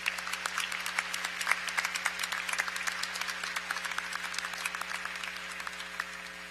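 Audience applause at a university fall undergraduate commencement ceremony, a steady sustained wash of many hands clapping throughout, moderately distant and even in level, with no speech over it.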